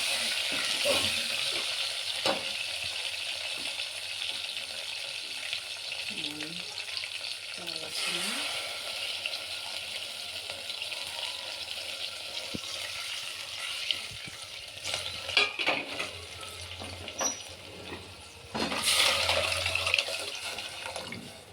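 Coriander and curry leaves are stirred into a sizzling tempering for Andhra-style pappu charu, a steady crackling fry with occasional scraping stirs and louder bursts of spatter near the end.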